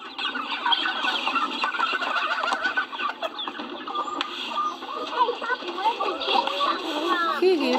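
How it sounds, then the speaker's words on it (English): Farm chickens clucking and squawking nearby, a busy overlapping chatter of fowl calls that runs throughout, with a voice mixed in. "These are chicken."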